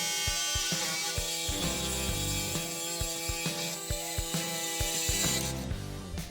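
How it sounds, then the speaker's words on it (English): A pneumatic body saw cuts into sheet metal on a Dodge pro street car, a fast rhythmic reciprocating chatter with a ringing metallic drone, continuous and close throughout. "My trusty old body saw is what I'm going to use to whittle out the bulk of the metal we want to unload."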